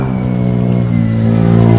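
A motorcycle engine on a downhill road revs briefly and loudly, a close steady growl that swells slightly toward the end, with no talking over it.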